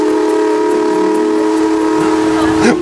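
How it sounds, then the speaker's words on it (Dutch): Steam blowing off aboard an 1893 steam tugboat: a loud, steady whistle-like tone with strong harmonics holds throughout, swelling in a brief rush near the end, with no talk. "Moet heel even stoom afblazen."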